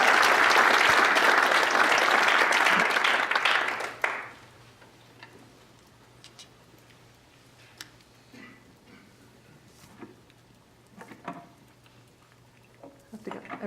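An audience bursts into loud, dense applause to welcome Kelly Dwan to the stage at a WordPress talk in Boston, clapping steadily for about four seconds before cutting off to a quiet room with faint shuffling and small clicks.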